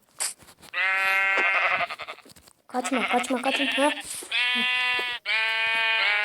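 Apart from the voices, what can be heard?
sheep bleating, from a video game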